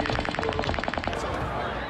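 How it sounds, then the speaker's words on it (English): Automatic gunfire erupts at a music festival in Las Vegas: a rapid, even burst of heavy reports that rattles on for about a second, then gives way to a dense, echoing wash of noise. "gunfire silenced the music"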